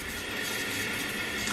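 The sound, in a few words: water running through a 15-stage shower water filter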